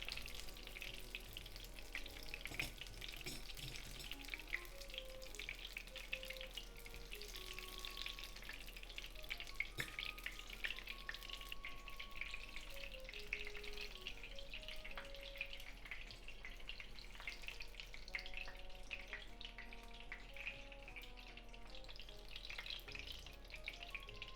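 Corn and cheese spring rolls fry in hot oil with a soft, steady sizzle and scattered small pops, faint and continuous, with quiet music in the background.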